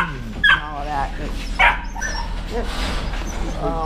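Springer spaniel puppies from three litters bark, yip and whimper in short bursts close by, with people talking over them throughout.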